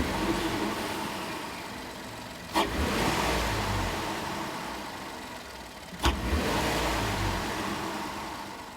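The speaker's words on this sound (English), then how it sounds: "You can actually hear the intake a little bit more because of the open element box." A 2012-2014 Ford F-150 with the 3.5L EcoBoost twin-turbo V6 and a Roush cold air intake runs steadily up close, its intake noise swelling in two brief surges.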